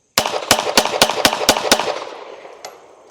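Smith & Wesson CSX compact pistol fired in a rapid string of seven loud, evenly spaced gunshots outdoors, each crack ringing into a fading echo after the last shot.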